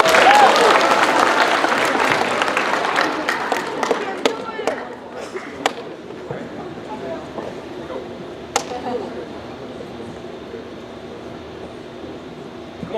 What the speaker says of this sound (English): Come on, give her a hand.